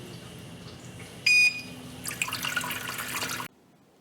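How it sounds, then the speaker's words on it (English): A short electronic beep, then a MUFGA 12-pod hydroponic system's pump pushes water through the grow deck holes, giving a close, steady splashing rush that stops abruptly. "The water is flowing through all holes."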